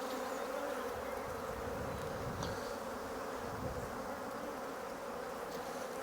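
Steady, dense humming of honeybees in an open National hive, a faint but continuous buzz with no talking.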